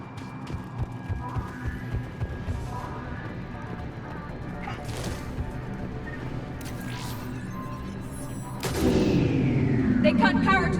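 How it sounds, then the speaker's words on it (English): Heavy booming blasts and crashing impacts from a cannon firing in a Mass Effect 3 battle on Tuchanka, with voices between them and a loud rumbling burst near the end. "Then I think it's time to test this cannon."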